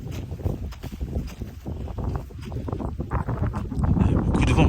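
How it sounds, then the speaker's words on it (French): Strong wind buffets the microphone on the bank of the Congo River at Brazzaville, a steady low rumble that builds louder toward the end, with faint voices underneath. "Il y a beaucoup de vent."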